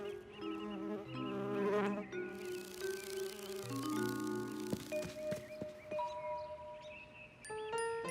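A cartoon bee buzzes in a steady, whining drone, weaving over light tinkling music and chimes, fairly close and continuous with no talking.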